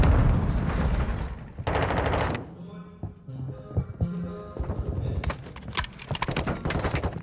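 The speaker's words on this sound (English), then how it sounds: "Shots are exchanging, but this has just been a slow work onto the A site." Call of Duty: Modern Warfare II gunfire during a LAN esports match comes in bursts of rapid shots and single cracks with quieter gaps, with a commentator talking over it.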